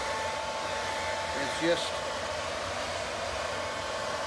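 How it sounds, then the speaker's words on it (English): A hair dryer blows with a constant, even whooshing roar, close up, drying washed feathers and pelts for fly tying, while a voice speaks briefly over it. "Set your hair dryer"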